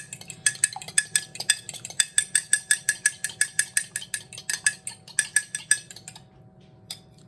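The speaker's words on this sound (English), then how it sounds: "it needs to be beaten. You can use a whisk or a fork" An egg being beaten in a bowl with a whisk or fork for cinnamon sugar blondies, a fast run of evenly spaced metallic clinks against the bowl, close and clear, pausing briefly near the end.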